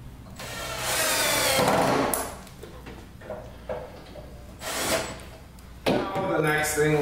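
A power drill drives the last screw into a Charleston Cherry cabinet in two loud whirring bursts, followed by wooden knocks and clunks, with someone talking between the bursts.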